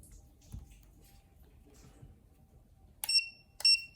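Two short electronic beeps from an Emax E6 radio transmitter's beeper, close and fairly loud near the end, after a quiet stretch with faint handling noise.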